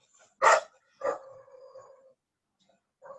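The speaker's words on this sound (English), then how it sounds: "Dog interruption." Dog indoors gives one sharp bark followed by a second bark that trails into a drawn-out whine, then a brief soft yip at the end, close and clear against silence.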